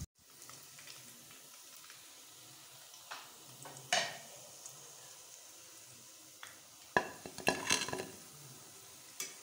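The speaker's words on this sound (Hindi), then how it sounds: "तकरीबन 5 मिनट में ये फ्राई होते हैं।" Gulab jamun made from semolina frying in hot oil, a faint steady bubbling with occasional soft clinks of a utensil against the pan.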